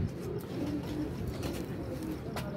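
A pair of pigeons coo softly nearby in low, repeated murmuring calls, with a few faint background noises and no clear speech.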